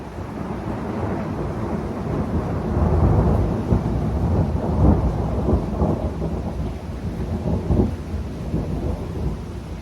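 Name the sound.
long rolling thunder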